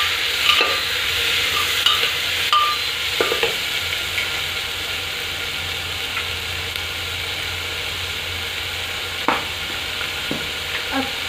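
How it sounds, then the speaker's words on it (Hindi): Onion and tomato fry in a pan while being stirred, a steady close sizzle with a few scraping strokes of the spoon, no talk. "डालने के बाद इसको अच्छे से मिक्स कर लेंगे,"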